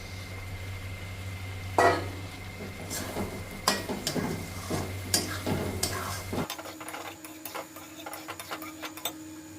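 Soaked mushrooms going into butter in a pan, with a steady low sizzle, scattered clinks and stirring scrapes, then a quieter, thinner crackle near the end.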